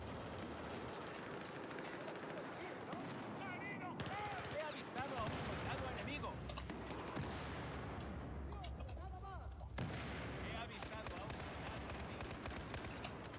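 Rapid gunfire from hip-fire shooting in Battlefield 4, dense and loud bursts running almost continuously across the whole stretch with heavy battlefield noise, no voice over it.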